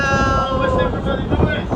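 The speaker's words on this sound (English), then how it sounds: "I know it's windy." Steady wind off Aruba buffets the microphone with a broad low rumble, heard close throughout alongside tonal engine hum from a nearby transport boat.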